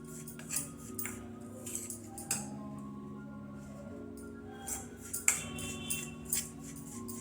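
A spoon clinks and scrapes against a bowl while green chillies are mixed into a vegetable filling for stuffed tinda, a few sharp metallic taps spaced irregularly over a quiet background hum.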